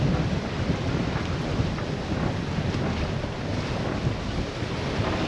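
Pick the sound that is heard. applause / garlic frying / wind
wind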